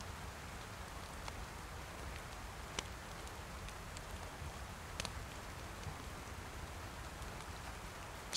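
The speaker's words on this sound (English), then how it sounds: "I don't know if that rain's ever going to let up." Steady rain falls in the DayZ survival game, a faint even hiss with occasional soft drop ticks and no voices throughout.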